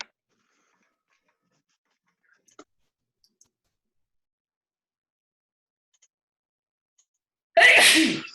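A single sharp sneeze near the end, following a long stretch of near silence broken by a few faint clicks.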